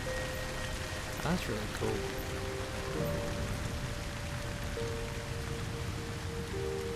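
Steady rain hisses across a surface on an alien planet in No Man's Sky, a constant wash under faint tonal hums, with a person briefly speaking over it.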